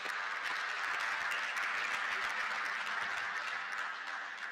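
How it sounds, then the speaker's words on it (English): Audience applause fills a legislative chamber, steady and dense throughout without breaks, a broad wash of many hands clapping at moderate distance. "I think he deserves yet another louder applause."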